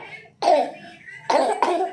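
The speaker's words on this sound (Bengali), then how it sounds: "কাশছে, কাশি হয়ে গেছে বোধহয়" A child coughs three times, short sharp bursts close to the listener, with a brief pause before the last two come in quick succession.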